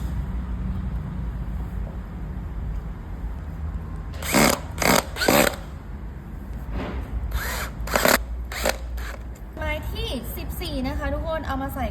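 Power driver fastening screws into wooden panels of a minimalist kitchen cabinet being assembled, heard as several short, loud whirring bursts in two groups, with a person talking in between.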